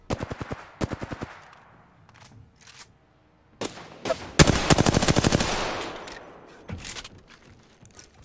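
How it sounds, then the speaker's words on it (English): Automatic and rapid gunfire in the battle royale video game Apex Legends, several sharp bursts of shots in quick succession with short pauses between them, loud and close. "Firing. Shot fired."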